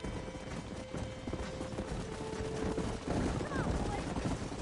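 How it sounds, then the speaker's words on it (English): Horse hooves clip-clop in the Red Dead Redemption video game, a faint rapid patter mixed with other game noise and some speech in the background. "There's the horses!"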